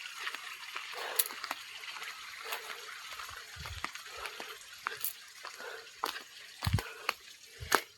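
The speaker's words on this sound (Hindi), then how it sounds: "पानी की आवाज़ आ रही होगी आपको। ये रहा पानी का स्रोत" Water from a mountain spring above a ravine in the Uttarakhand hills trickles and gurgles softly and steadily, with scattered small clicks and knocks nearby.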